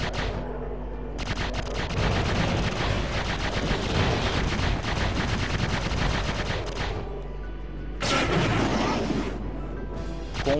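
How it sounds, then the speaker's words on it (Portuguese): Laser shots from a spaceship in the Xbox space shooter Aces of the Galaxy, fired in a fast, steady stream over a dense, loud game soundtrack. The volley pauses briefly near the start and again near the end. "atiramos o shot, single shot, o tiro simples"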